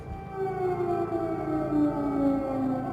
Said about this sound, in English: The air raid sirens in Odessa warn of rockets and drone attacks, a near daily occurrence